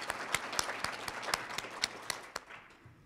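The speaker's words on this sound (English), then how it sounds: "let's give our mayor, our current mayor, a round of applause" A small audience applauds the mayor of Pontiac at an event, scattered sharp claps from a modest crowd at a distance, thinning out toward the end.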